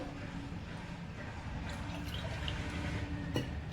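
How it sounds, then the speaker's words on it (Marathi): Water trickles little by little into balushahi flour dough in a home kitchen, a soft, steady wet patter with faint drips that runs continuously throughout. "एकदम थोडं थोडं पाणी टाकून आणि मग मळायचं आहे त्याला"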